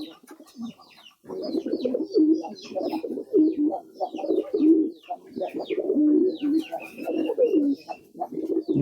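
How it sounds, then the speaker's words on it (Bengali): Several male pigeons coo in low, throaty bursts almost continuously while fighting, with scuffling wing flaps and sharp higher chirps scattered throughout. "সামনে নর কবুতরগুলো কীভাবে ঝগড়া লাগছে দেখেন"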